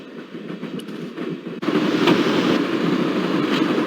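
Train running in the video game Broken Sword: Shadow of the Templars Director's Cut, a steady rolling rumble with clickety-clack rhythm that grows louder and fuller partway through, heard alone without talk.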